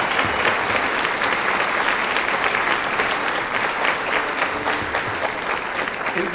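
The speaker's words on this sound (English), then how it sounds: "would you please give them a round of applause?" An audience at a holiday string music concert applauds steadily, dense clapping at full strength throughout, loud and close.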